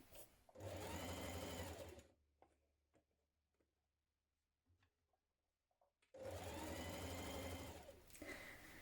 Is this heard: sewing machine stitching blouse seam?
yes